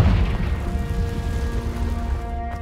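A Confringo spell in Hogwarts Legacy sets off a loud booming blast with a tonal ringing tail that fades over about two seconds.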